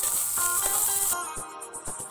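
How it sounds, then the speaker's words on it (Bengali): Two medium-sized chopped carrots fry in a pan, giving a steady bright sizzle that fills the first half, then thins into quieter crackling with a few soft stirring clatters. "এখন আমি গাজরগুলোকে ভালোভাবে ভেজে নিচ্ছি।"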